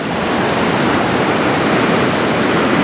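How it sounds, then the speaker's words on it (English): Rushing water pours through a channel beside sluice gates in a Japanese garden in Lucerne, a loud, steady, broadband roar that continues without a break. "That water really gets cranking."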